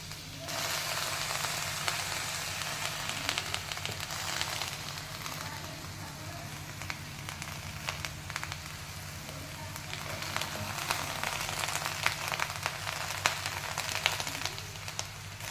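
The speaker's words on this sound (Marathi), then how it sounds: "हे शेंगा ओला होतात तर आवाज कसा येत आहे." Wet pea pods roasting in a hot pan give off a faint, even crackle and hiss that holds steady from start to finish, with tiny pops scattered through it.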